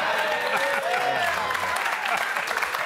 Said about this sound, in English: I didn't want your applause, but thank you.